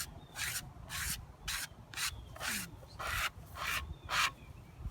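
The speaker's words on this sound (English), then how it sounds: "I am going to take one of my scrapers, and since I've softened this stuff up, some of this I can just scrape off." A hand scraper rasps over softened grime on a gravestone in about nine short, regular strokes, each a close, bright scraping burst with brief pauses between, and no voices.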